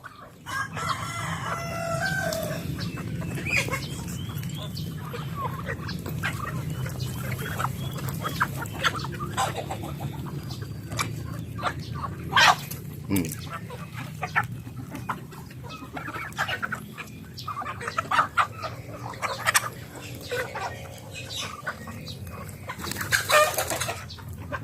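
Chickens, turkeys and ducks crowd together at feeding time over scattered dried corn, with roosters crowing and hens clucking in a busy, continuous barnyard chorus close by.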